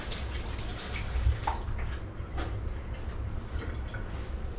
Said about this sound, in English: I'm going to go wash my hands off.